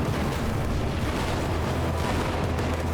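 Continuous heavy gunfire and explosive bursts in a video game, a dense rumbling wall of booms and pops that stays loud and unbroken throughout.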